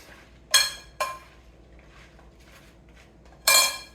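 Apple and cucumber salad being mixed in a bowl: three sharp clinks of a utensil against the bowl, two close together and one a few seconds later, with quiet in between.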